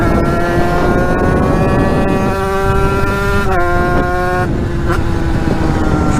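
A YFC 80cc two-stroke dirt bike engine with a 28 mm carburettor runs close by in a loud, steady buzzing drone, its pitch dipping briefly twice before settling back.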